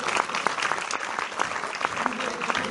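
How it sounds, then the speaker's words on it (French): Audience applause after a special film screening, a sustained patter of many hands clapping with sharp individual claps standing out, fairly close and steady throughout. "On vous applaudit bien fort"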